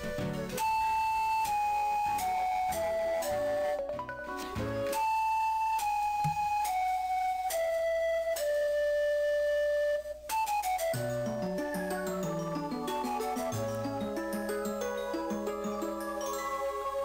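A gentle, bell-like chiptune melody from the game Zelda: Spirit Tracks, single plinking notes stepping up and down, steady and unhurried, with no voices.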